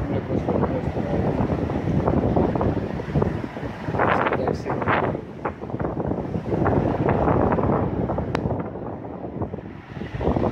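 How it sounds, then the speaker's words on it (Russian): Large storm waves crash along the Black Sea shore at Arkhipo-Osipovka, heard from a hillside. A dense, continuous roar of surf is mixed with strong gusting wind buffeting the microphone, loud and unbroken throughout. "Я здесь нахожу такие большие волны."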